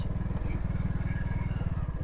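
A motorbike's engine thrums in a steady, rapid pulse, close and prominent, as it rides along a sandy path through a quiet tea garden in Fenchuganj, Sylhet.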